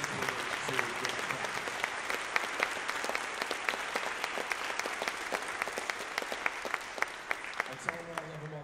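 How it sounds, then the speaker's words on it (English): An audience applauds students of the Rowan University Concert Band. Dense, steady clapping from a crowd fills the whole stretch, with sharper individual claps standing out near the microphone. "I think that we deserve to give them a round of applause for being dedicated to music"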